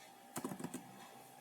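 Faint keystrokes on a computer keyboard as a network command is typed: a quick cluster of several clicks, a pause, then one more tap.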